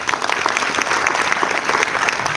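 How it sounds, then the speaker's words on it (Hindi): Dense, sustained applause from an audience at a university music concert, steady and loud throughout with no break. "तालियां बजनी चाहिए"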